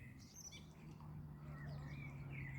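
Birds chirp and trill faintly outdoors near water with fish, thin high calls scattered over a low steady hum, with a voice murmuring faintly at times.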